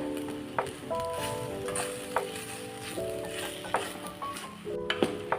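Chopped cooked squid stir-fried in a pan for Kerala-style squid thoran, a low sizzle under repeated scraping spatula strokes and metallic clinks, close and moderately quiet.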